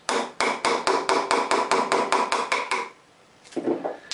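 A mallet pounds a chisel while a wooden stool seat is hand-carved: about fourteen sharp, evenly paced knocks, close and crisp, then a short pause and a softer scraping cut at the end.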